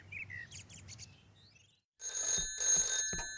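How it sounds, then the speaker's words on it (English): In a Postman Pat cartoon, a telephone rings in Pat's house, loud electronic trilling bursts in two or three pulses at the end, after faint birdsong and a brief pause. "The next day, the phone rang in Pat's house."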